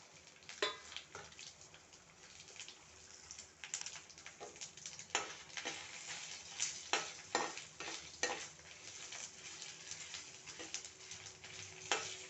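Mustard seeds, cumin, fenugreek and dried red chillies fry in hot oil with a steady crackling sizzle, broken by sharp pops and the scrape of a spoon stirring, with no voices.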